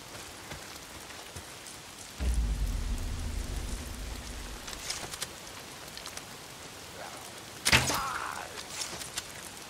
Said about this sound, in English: Why is it always raining?